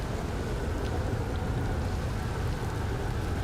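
Heavy rain from a storm in the game Outer Wilds makes a constant, even hiss and patter, close and unbroken throughout, with a low rumbling wash underneath and no voices.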